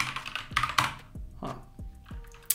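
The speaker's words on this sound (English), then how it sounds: "let me just type my password." A password is tapped out on a computer keyboard in a quick run of separate, close keystrokes with short pauses between them, with no voice over it.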